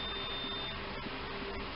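A digital multimeter gives a thin, steady continuity beep while probing a ceramic capacitor, a faint high tone that holds briefly and then cuts off over low background noise.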